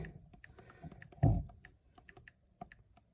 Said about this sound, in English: So I'm going to type in peanuts